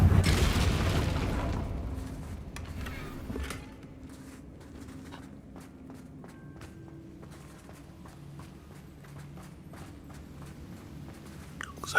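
An Incendio fire spell in Hogwarts Legacy sets a wooden bridge alight: a loud whooshing burst at the start fades into quieter crackling, scattered pops and soft ambient rumble.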